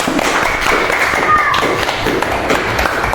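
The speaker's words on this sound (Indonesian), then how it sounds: "kasih tepuk tangan untuk Nadia" A classroom of students claps for a classmate, a loud, close, continuous patter of many small hands that keeps a dense, even texture throughout.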